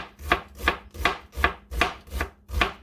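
An onion is chopped with a knife on a cutting board in seven evenly spaced, firm strokes, each a sharp close thud, with no talking.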